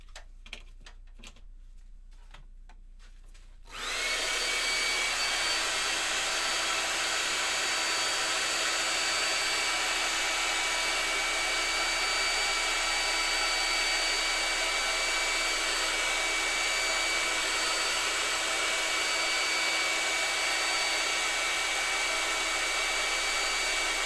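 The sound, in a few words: heat tool drying water-based stain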